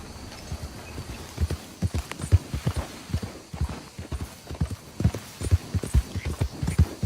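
Steady clip-clop of a horse's hooves at a trot in Red Dead Redemption 2, a close, rhythmic run of thuds continuing throughout with no talk over it.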